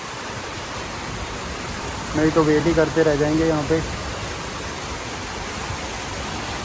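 Heavy rain pours steadily as a broad, even hiss outdoors at a hill temple town, with someone speaking briefly in the middle over the downpour.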